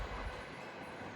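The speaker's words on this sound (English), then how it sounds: "Okay, passing through now is a Thameslink service." A Thameslink passenger train runs through Alexandra Palace on the East Coast Main Line, giving a steady, fairly faint rumble of wheels and carriages that stays even for the whole moment.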